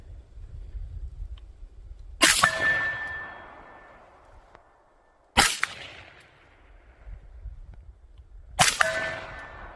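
Three sharp rifle shots fired at a target through a Triton NV100 1-6 night vision scope in daytime, each a loud crack with a metallic ring from the hit plate, spaced about three seconds apart with quiet between.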